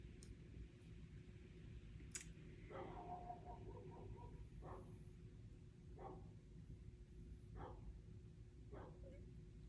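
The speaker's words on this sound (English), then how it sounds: "My neighbor's dog is going off." A neighbor's dog barks in the distance, a handful of faint, spaced yelps repeating irregularly over a steady low background hum.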